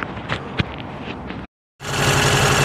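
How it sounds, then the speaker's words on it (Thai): A Honda car engine with a carburetor idles unevenly, a close rough chugging that cuts out briefly, then resumes louder and steadier; no talking. "ตอนนี้ได้ติดเครื่องเสร็จเรียบร้อยนะครับรถคันนี้เครื่องยนต์เดินไม่เต็มสูบ"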